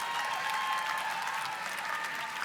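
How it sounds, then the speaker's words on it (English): An audience at a journalism-for-the-arts graduation ceremony applauds the graduates, a brief, even and sustained burst of clapping from many hands in a large space. "Let's give a round of applause for all of our Specialized Journalism for the Arts graduates."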